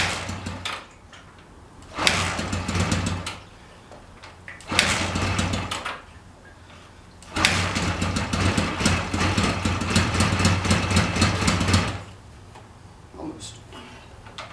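A Honda Twinstar motorcycle engine, its carburetor freshly rebuilt, cranks in repeated bursts, catching and running roughly for several seconds at a time before dying, with quiet gaps between attempts.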